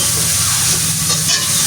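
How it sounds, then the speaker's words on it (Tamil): Carrot and vegetables sautéing in hot oil for pittu kothu make a loud, continuous close-up sizzle with a broad, steady hiss throughout. "எண்ணெயில் போட்டு நல்ல வடிவாக வதக்கணும்"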